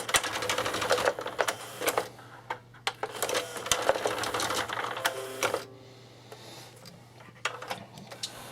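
The loading drawer mechanism of a Sanyo CP-M405 4-CD player clatters and ticks rapidly with irregular mechanical clicks, close and fairly loud, then quiets to faint ticking near the end.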